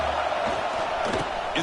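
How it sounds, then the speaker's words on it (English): A football stadium crowd cheers to help the defense in the red zone, a loud, continuous roar that fills the whole moment, with a commentator speaking over it. "the crowd coming to life here, trying to help this defense down in the red zone"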